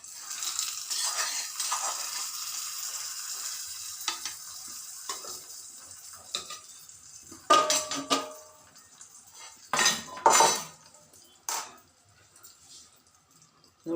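Ingredients drop into a seeme badane kaayi chutney and are stirred with utensils, a soft steady sizzle and rustle with several louder clinks and scrapes near the end, close and with no talk.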